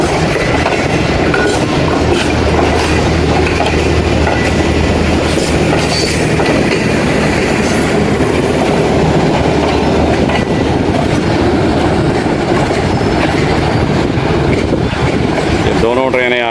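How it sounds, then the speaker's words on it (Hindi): Passenger trains rumble steadily through Khanewal Junction, a loud, continuous roll of wheels and carriages with rhythmic clickety-clack and a brief wheel squeal near the end. "ये दोनों ट्रेनें आगे जाके मिल रही हैं।"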